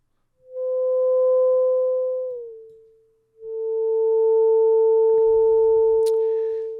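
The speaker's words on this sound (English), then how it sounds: "the bow is drawing out that natural mode of oscillation of the system" A bowed mass mounted on springs rings with a pure, near sine-like tone that swells and fades, glides down in pitch, then returns as a second sustained tone, ending with a brief clatter and click.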